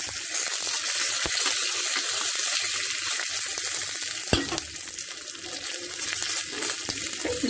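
Buttermilk curry (mor kuzhambu) coming to a boil in a pot, a dense, continuous bubbling sizzle heard up close and fairly loud, with one or two faint knocks and no speech.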